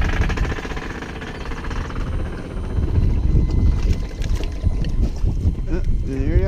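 A 6,000-pound Hewitt hydraulic boat lift lowering toward the water gives off a steady low mechanical rumble with rattling, juddering noises from its joints. The sound is loud and close and runs continuously, with a faint whine near the end.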